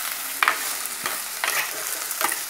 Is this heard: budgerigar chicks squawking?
no